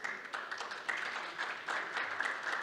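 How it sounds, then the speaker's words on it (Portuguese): Applause at a Brazilian conference panel session welcomes the association president onto the stage, a quiet, steady patter of clapping from a modest audience, lasting a couple of seconds with no talk over it. "o nosso presidente da CEBIC, Renato Correia, a quem eu peço uma salva de palmas."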